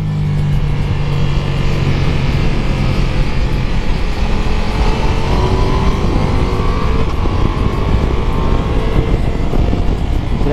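A 2021 Ducati Multistrada V4S motorcycle on a track roars loud and continuous, its engine tone climbing steadily under heavy wind rush.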